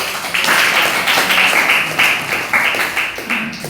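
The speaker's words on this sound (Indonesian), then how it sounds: "Oke, tepuk tangan dulu." A high school class applauds in a classroom, a steady burst of many hands clapping together, fairly loud and close.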